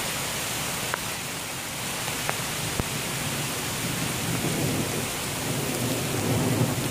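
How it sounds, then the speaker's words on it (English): Heavy summer thunderstorm in a rainforest setting: dense, steady downpour roars throughout, with low thunder rumbling beneath and growing slightly louder toward the end. "Come on, this is just a summer storm."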